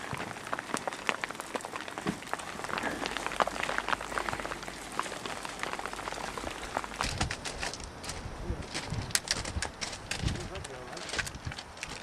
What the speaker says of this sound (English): It's absolutely chucking it down now